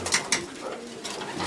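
Pigeons coo in a pigeon loft, a close, steady run of soft throaty calls with a couple of sharper bursts near the start, heard alone without talk.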